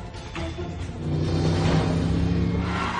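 A car engine revving hard and building to a sustained loud roar as thieves prepare to ram a steel-reinforced security door at a convenience store.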